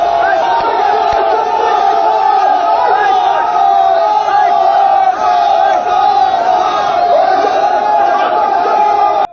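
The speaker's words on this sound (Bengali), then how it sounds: "তখনই মন্ত্রীকে দেখে চোর চোর স্লোগান দেয় বিজেপি কর্মীরা" BJP workers chant 'thief, thief' slogans at a state minister during a political protest, a loud, steady crowd chant of many voices that continues throughout with rhythmic shouted repetitions.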